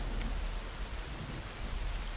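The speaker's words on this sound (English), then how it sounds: "While it's raining." Steady heavy rain falling in the survival game The Forest, a dense continuous hiss of drops at constant loudness with no voices.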